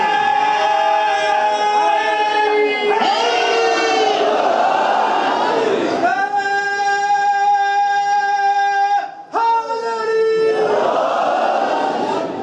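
A large crowd at a religious celebration loudly chants a slogan in unison, long sustained shouted phrases with clear pitched tones, repeated in several surges that fill the hall.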